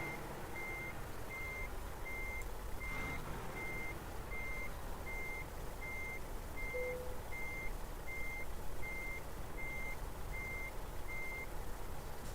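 Regular reversing beeps from a truck in American Truck Simulator repeat at a steady pace over a constant low engine rumble, moderately loud and with no talking.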